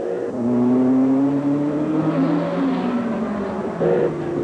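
Race cars at the 1988 Le Mans 24-hour race at first light on Sunday morning, engines droning loudly and continuously, their pitch rising and falling as the cars rev and pass, with no talking.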